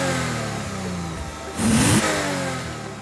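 A 2015 Lexus RC 350 F Sport coupe engine revs up from idle in a short sharp burst, rising in pitch and loudness before falling back, heard close with no talk.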